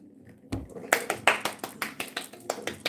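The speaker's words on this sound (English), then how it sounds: "Give him a round of applause." A small round of applause from one or two people, about a dozen close, sharp hand claps in a loose steady rhythm, with a voice briefly at the start.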